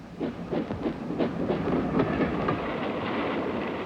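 A steam locomotive train rolls past with rhythmic clickety-clack of wheels over rail joints, fading into a steadier rumble.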